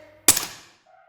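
A single sharp gunshot rings out from a revolver in a tense betting game scene of a suspense drama. The loud crack decays quickly into a brief fading tail before a low tone resumes.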